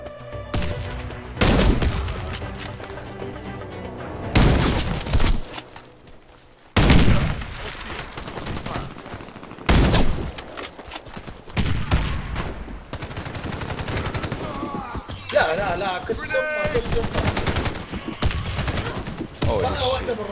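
Bursts of rapid gunfire in the shooter game Warface crack repeatedly over a busy mix of game effects, with loud single shots, sniper fire and sustained volleys spread through the clip.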